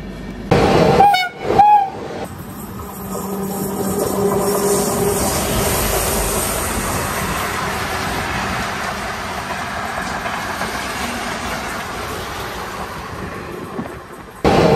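Passenger train 12193 on the Yesvantpur to Jabalpur route, heard from on board: a couple of short horn blasts at the start, then a steady rolling rumble of the wheels on the rails.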